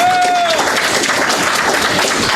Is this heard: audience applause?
yes